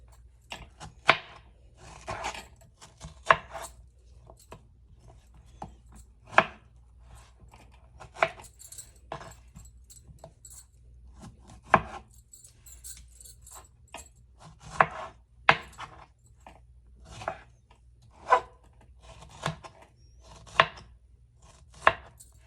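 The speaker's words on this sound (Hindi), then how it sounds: "ये स्ट्रॉबेरी हैं, इनको भी उसी तरह ही हमने छोटे छोटे पीसेस में काटना है।" Strawberries chopped into small pieces on a cutting board, a string of distinct close knife thuds at an uneven, unhurried pace, with quieter taps and shuffling between cuts.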